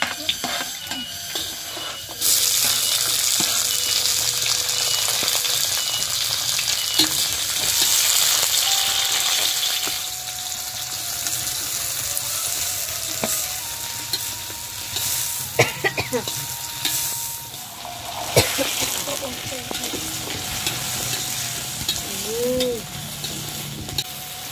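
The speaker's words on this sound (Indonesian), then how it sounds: "Mau numis cumi katanya Baraya." Squid stir-frying in a pan, a steady loud sizzle with occasional scrapes and clanks from stirring, going on continuously without talk.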